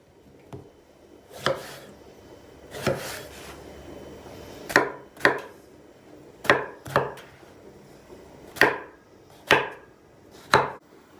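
A knife chops eggplant on a cutting board into chunks slightly larger than meatballs, about a dozen sharp, close strikes at an irregular, unhurried pace with quiet pauses between them.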